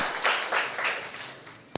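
An audience claps loudly in a short burst of applause at a talk, dense and sustained before thinning out, with one sharper clap near the end.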